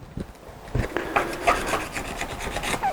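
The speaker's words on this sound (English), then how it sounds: "you get your little brass inserts and just lightly scuff the outside of them" Small brass pen inserts for a wood-turned pen being lightly scuffed on their outer surfaces, a close, quiet, uneven rasping rub in short repeated strokes, with no speech.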